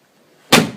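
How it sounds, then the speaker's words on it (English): Door of an old Holden Torana LC GTR car slammed shut once, a single sharp loud thud after near silence, close by with no talk. "Slam that door because the door drops on these old cars."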